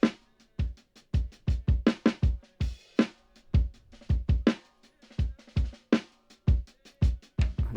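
Hip hop drum mix with a snare added, loud punchy kicks and snare hits in a steady, busy groove, alone with no talk.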